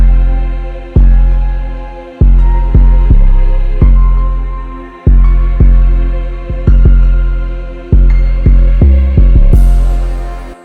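Beat with heavy booming bass kicks playing through a soft clipper in FL Studio, loud and slightly clipped, struck in a syncopated rhythm with decaying low tones and a bright cymbal near the end.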